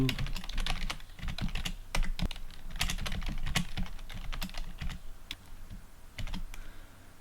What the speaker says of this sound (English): I could have typed this whole method out on one line